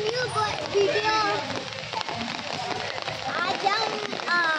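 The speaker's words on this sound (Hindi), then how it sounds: "आज हम बारिश में खेलने आए थे।" Monsoon rain falls steadily in Mumbai, a constant close hiss of drops on surfaces, while children chatter and call out over it.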